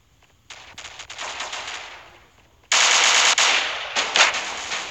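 Automatic gunfire in the mobile shooter Standoff 2 comes as rapid bursts: a lighter stretch of shots, then a louder, denser volley and a final burst, all close and with no talk over them.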